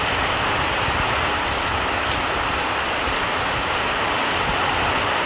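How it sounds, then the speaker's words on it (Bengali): Steady, heavy downpour near a home in a railway town, a thick unbroken wash of rain hitting the ground and roofs, constant in loudness from start to finish. "দেখেছো বন্ধুরা কীভাবে চলছে অবিরাম বৃষ্টি।"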